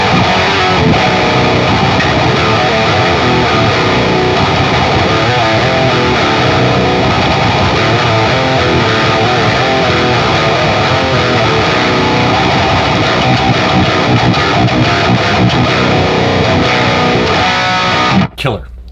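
Electric guitar played through the Precision Drive model on a Line 6 HX Stomp, a dense, loud, distorted wall of chords sustained continuously for many seconds before cutting off abruptly at the end.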